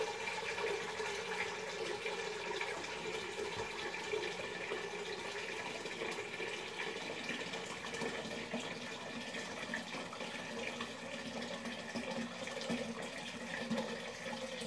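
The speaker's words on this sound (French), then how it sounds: "je vais remplir à moitié d'eau froide. En moitié de la cocotte minute" Cold tap water pouring steadily into a pressure cooker as it fills halfway, a continuous close splashing rush with a slowly shifting tone, no voices.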